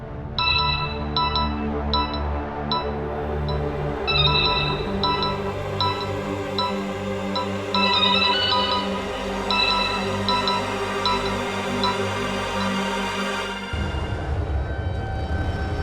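Phone ringtone playing a repeating electronic melody of short beeping tones over a steady backing, sustained for several seconds before it cuts off.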